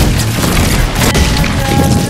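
Weapon fire hitting an enemy in the Fortnite video game, a dense, loud booming burst with heavy low rumble and a sharp impact midway, continuing without pause.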